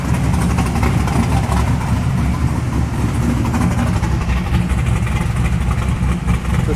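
A classic car hot rod engine fitted with a Terminator X package is blipped up to about 3,000 RPM, a loud, steady, close-up rumble with a rough burbling texture that holds evenly throughout.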